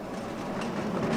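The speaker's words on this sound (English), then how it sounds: "trains haul lethal cargoes into underground bunkers" A train hauls ammunition cargo at an ordnance depot, rolling along with a steady low rumble and faint clickety-clack of wagons, fairly quiet and continuous with no voices.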